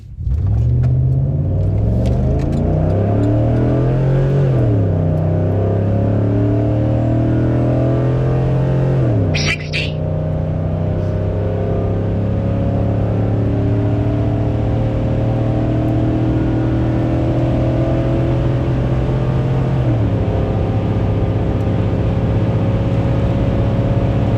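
Chevrolet Silverado pickup with a swapped 6.0-liter V8 on a quarter-mile run, its engine loud and close, revving up through gears with rising pitch, a brief shift break near ten seconds and another upshift around twenty seconds.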